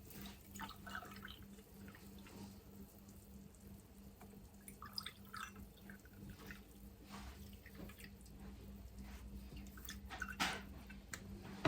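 A yogurt drink mixture poured into glasses, with intermittent liquid splashing and trickling, small drips and a clink near the end, fairly faint, with no talking.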